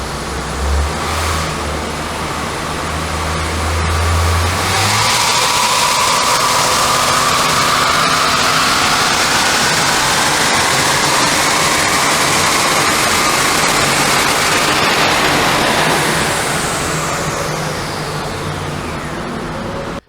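Nissan Note three-cylinder engine running on a dyno, a loud sustained roar that builds and climbs in pitch through a long run before cutting off abruptly.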